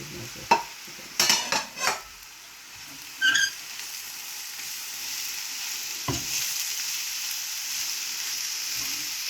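Jute leaves and dried chillies fry in a pan, a steady background sizzle broken by several sharp utensil scrapes and clatters early on and one more knock later.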